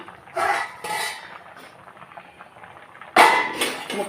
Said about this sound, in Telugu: కొద్దిసేపు మూత పెట్టి ఉంచేద్దాము